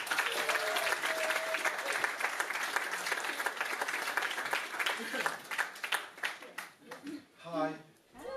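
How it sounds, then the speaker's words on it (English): An audience applauds Terry at an end-of-year special event, sustained clapping across the room that thins toward the end as a voice and scattered individual claps come through. "Round of applause,"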